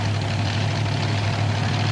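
Alcohol-fuelled Ford monster truck engines idle at a 1995 PENDA monster truck race in Canfield, a steady, heavy low rumble that holds loud and unbroken throughout.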